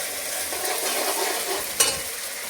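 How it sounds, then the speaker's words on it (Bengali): Spice masala sautéing in a hot pan for a chicken-feet curry: a steady, fairly loud sizzle runs throughout, with one sharp clink of a utensil near the end. "এখানে আমি সমস্ত আগে মশলাটা আমি কষিয়ে নিই"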